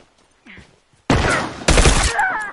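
Two loud, close bursts of rifle fire from a burst rifle in a competitive match of The Last of Us multiplayer, each a rapid cluster of shots, after a quieter stretch with faint background sounds.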